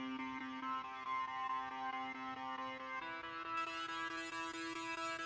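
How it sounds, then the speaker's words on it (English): A synth arpeggio from a song's chorus repeats steady, evenly spaced tonal notes in a bright, quiet pattern that thickens slightly toward the end, with no voices. "Then onto this sound, which is an ARP sound on the chorus,"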